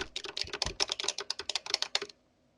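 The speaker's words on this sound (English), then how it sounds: "How come I can hear your keyboard over Skype but not Discord?" Fingers type quickly on a computer keyboard, producing a close, crisp run of rapid clacking keystrokes for about two seconds before it stops abruptly into near silence.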